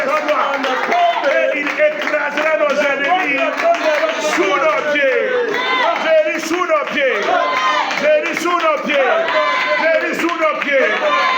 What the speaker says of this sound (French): Acclame fortement le Seigneur.